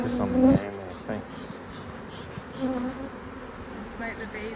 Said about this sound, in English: Smoke the bees again just because they're just a little bit angry again.